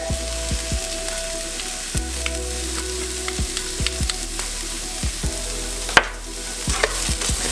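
Onions and garlic sizzle steadily in a pan while a utensil knocks and scrapes against it in repeated strokes, with one sharp clatter near the end.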